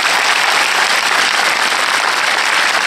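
A large crowd at a film premiere applauds the director loudly and steadily, a thick, unbroken wash of clapping filling the whole moment with no speech.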